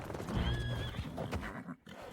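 A horse in a video game whinnies in one high, wavering neigh, loud and close, with hooves clopping around it.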